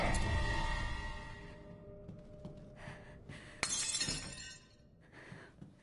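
Glass smashes and shatters in the Resident Evil Village: Shadows of Rose video game, a few fairly faint crashes with tinkling debris, including one sharp impact midway, separated by quiet stretches.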